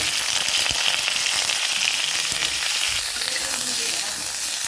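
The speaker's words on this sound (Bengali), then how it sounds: "একটুখানি কালি জিরা ফোড়ন দিয়ে সিমগুলো ভেজে নেব" Flat beans frying in a pan with a nigella seed tempering, giving a continuous loud hissing sizzle close up, with occasional stirring scrapes and pops and no talk.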